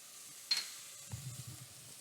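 Chopped onions dropped into melted butter in a hot pot for soup, giving a soft sizzle that starts with a sharp hiss, then low stirring and clattering sounds over a quiet background of steady frying.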